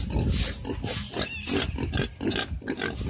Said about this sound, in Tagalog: Tingnan niyo po ang itsura ng baboy namin.